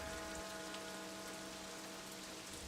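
Steady rain falls on a city parade ground, a dense continuous hiss of drops on hard surfaces with a low rumbling undertone, even in level throughout and with no voices.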